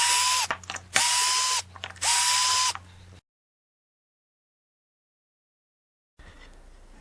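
Power drill or driver backing screws out of a lathe chuck plate during off-grid woodturning, three short whirring bursts with ratcheting, then silence and faint room noise.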